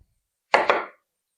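A single sharp HOSHANHO kitchen knife slicing cleanly through an onion, one brief crisp cut with a double crunch, close and isolated against silence.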